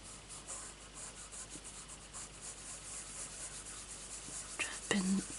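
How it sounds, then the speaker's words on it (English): A Tombow eraser rubs across paper while a page in an adult colouring book is being coloured. The strokes are soft, faint and continuous, with a few slightly stronger scrubs near the end. "Just use my Tombow eraser, I guess."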